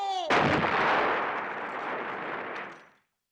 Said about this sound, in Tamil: இல்லடா, வேட்டு கேக்கும்